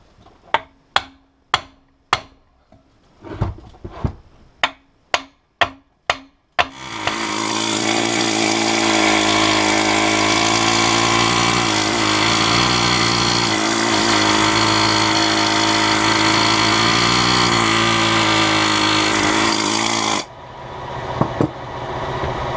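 Metal hammer striking an outboard motor's steering bracket (tilt tube), a series of sharp separate metallic blows, followed by a long loud steady whining power-tool drone and then a few more knocks.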